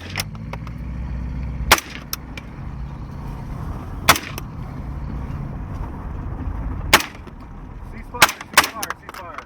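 Gunshots ring out during a vehicle ambush training drill in a security and special operations course: single sharp reports at scattered intervals, then a quick cluster near the end, over a steady low engine rumble.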